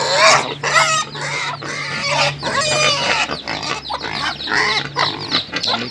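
Pigs grunt and chickens cluck nonstop in a farm pen bedded with rice husks, the calls close, busy and overlapping.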